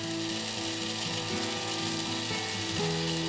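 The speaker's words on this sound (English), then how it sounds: "I'm just going to add my flowers into my coffee grinder" Dried hibiscus flowers are ground in an electric coffee grinder, a continuous close whirring motor drone with shifting mechanical rattle and no voices.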